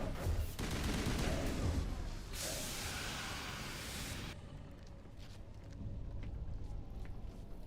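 Rapid gunfire in a video game shootout, a dense, loud burst of shots that drops abruptly to quieter scattered fire and background noise partway through.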